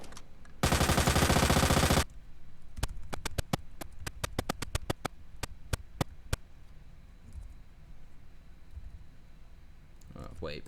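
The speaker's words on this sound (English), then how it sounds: "Submachine gun out" In Resident Evil 2 Remake, a submachine gun fires one loud continuous automatic burst of about a second and a half, followed by a series of sharp single shots at an irregular pace. A voice speaks faintly in the background.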